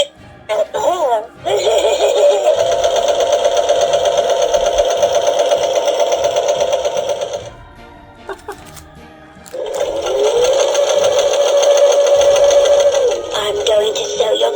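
A sewing machine stitches skull-pattern Halloween fabric, running in a loud, steady whir for several seconds, pausing briefly, then running again, with brief voices and laughter around it.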